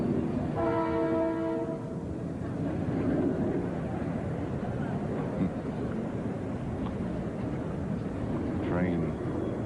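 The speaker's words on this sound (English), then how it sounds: "Train outside the stadium." A train passes outside a tennis stadium at the 1985 US Open, a steady loud rumble filling the whole clip, with a brief horn-like tonal sound near the start and crowd ambience.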